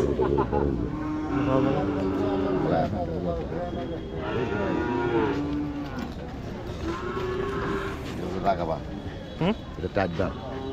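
Cattle lowing among the crowd at the Shimulia cattle market in Kishoreganj, several moos rising over steady market chatter and voices close by.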